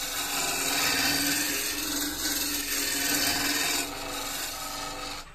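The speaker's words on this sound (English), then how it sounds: "this is only a small motor on this lathe, and yet it's still powerful enough to be a reasonably fast cut." A small-motor woodturning lathe cuts wood with a hand tool, making a loud, continuous rasping roar up close that eases slightly near the end.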